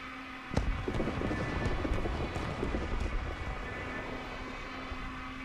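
A Ju-87 B-2 Stuka dive bomber in the War Thunder video game dives with a continuous droning roar and a steady tonal whine, after a sharp thump early on.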